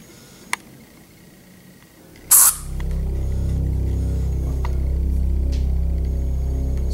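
A squeeze bottle of syrup gives a short sharp squirt, followed by a steady low sputtering spray that continues to the end, with a faint click earlier and no talking.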